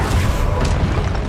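Spell blasts from the Confringo fire spell in the video game Hogwarts Legacy, a dense continuous booming rumble with crackling bursts, loud and sustained without a break.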